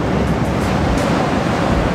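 Ocean waves surge against rocks along the Sri Lankan coast at high tide, a loud, continuous roar of churning surf heard close up, with wind buffeting the microphone.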